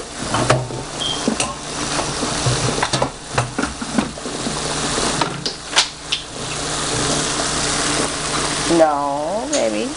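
Island-style corned beef and vegetables sizzle and crackle in a hot pan as a little water is added, with scraping and stirring clatter throughout and a louder hiss near the end.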